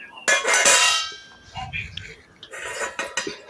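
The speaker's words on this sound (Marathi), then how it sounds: "इकडे तवा ठेवला" An iron griddle is set down on a kitchen stove with a few sharp metallic clangs and clinks, followed by quieter scraping and rattling of cookware.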